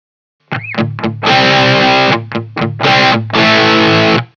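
Heavily distorted electric guitar through stacked OCD, Clarksdale and Tumnus overdrive pedals plays a short riff, then rings out thick sustained chords in bursts, loud and saturated with no talking.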